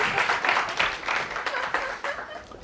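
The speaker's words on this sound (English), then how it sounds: "Great applause to you." Audience applause, a steady patter of many hands clapping at moderate volume, gradually tapering off.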